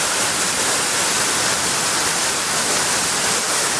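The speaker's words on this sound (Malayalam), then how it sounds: "ഈ വെള്ളച്ചാട്ടം കണ്ടോ, നല്ല ഭീമ പാറകളാണ്, വലിയ കരിങ്കല്ലിൻ്റെ മുകളിലാണ് ഇങ്ങനെ ചാടി വരുന്നത്." Achankallu waterfall pouring over huge granite boulders, a steady, dense, full-bodied roar of rushing water that stays close and constant throughout with no other sounds.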